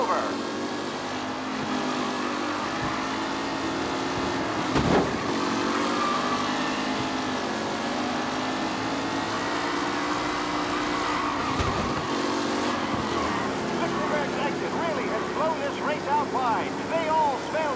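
Race cars lapping a track in Mafia: Definitive Edition, a sustained roar of old-style engines with shifting pitch as cars pass close by, and commentary-style talk heard over the noise.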